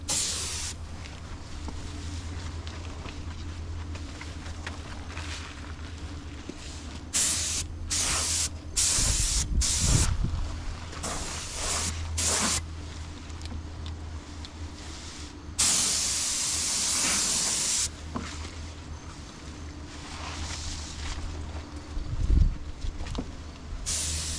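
A spray gun lays a tack coat of paint in the engine bay of a 1970 Dodge Dart, with loud hissing bursts of varying length broken by short pauses and a steady low hum beneath.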